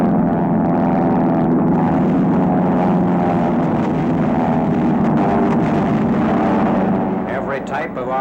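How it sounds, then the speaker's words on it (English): Wartime RAF bomber aircraft fly over enemy territory, a loud, continuous propeller engine drone with a steady throbbing hum, while a narrator talks over it. "RAF planes over enemy territory on 22nd February, a typical day of all-out Allied bombing."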